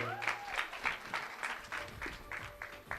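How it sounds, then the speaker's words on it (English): A convention pageant crowd applauds a contestant, scattered claps and cheers sounding faint and somewhat distant, with voices and other sounds mixed in over about three seconds. "Another round of applause to Fiona"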